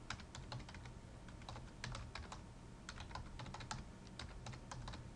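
Keys on a computer keyboard tapped in an irregular run of soft clicks while a password is entered at a sign-in page, close and steady throughout with no one talking.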